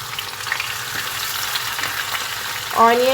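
Steady oil sizzling and crackling from a pan, continuous and close, with a brief clatter and higher tone near the end as onions are added.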